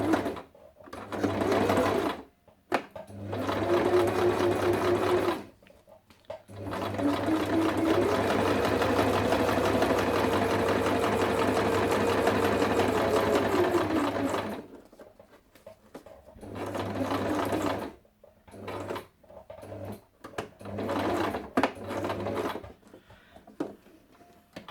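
Sewing machine stitching through paper for a happy-mail craft project whirs in loud, close bursts, several sustained runs separated by pauses and short clicks, with a brief stretch of talk in between.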